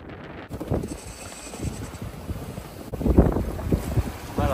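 Sailboat beating into a headwind at sea off the Moroccan coast, with a big following swell; steady gusting wind noise buffets the microphone, joined by rushing water and wave wash along the hull, close and continuous, with no voices.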